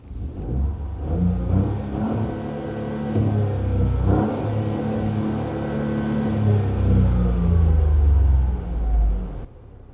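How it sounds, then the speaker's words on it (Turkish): Dacia Jogger seven-seat family car engine and turbo revving at high RPM, a loud continuous mid-pitched rumble that rises and falls through repeated revs, with a turbo whir on top and no talking. "Özellikle böyle yüksek devirle çıktığında turbonun sesini duyuyorsunuz."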